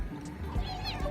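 A cat meows faintly a couple of times against a quiet, slightly noisy background, with soft low rumbling underneath.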